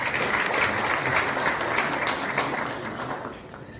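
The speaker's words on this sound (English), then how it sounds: "I think a round of applause is in order." Applause at a Ghanaian government launch event for a rent assistance scheme: a dense crowd claps steadily, then the clapping thins and fades toward the end.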